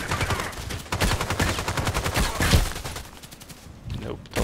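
Heavy gunfire in the shooter Contract Wars, continuous rapid shots and overlapping bursts that thin out toward the end, with some talk mixed in.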